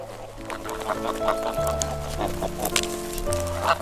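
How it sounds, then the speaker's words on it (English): Geese roaming freely on an open, unfenced farm, honking and clucking in overlapping bursts at close range, with layered calls and cackles running steadily throughout and no talking. "The geese are free to come and go as they please."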